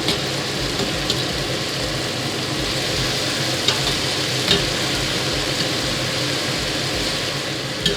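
Tortellini fry and sizzle steadily in a pan while being stirred, with a continuous close crackle broken by occasional scrapes and clicks of the utensil, and no talking.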